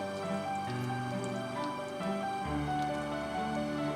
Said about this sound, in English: Let's start by pouring the palm oil